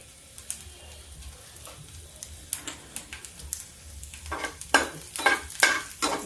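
Garlic sizzles in hot oil in a pan for baingan bharta, a soft steady frying hiss broken by a growing series of sharp scraping stirs that grow louder and denser toward the end.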